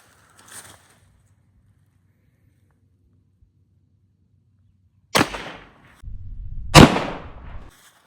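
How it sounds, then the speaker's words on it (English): A 9mm Hornady American Gunner round is fired into ballistic gel, giving two sharp, loud cracks a little over a second apart, each trailing off in a short rumble, after a faint thump and a long quiet stretch. "Next up, we got Hornady American Gunner going into the ballistic gel."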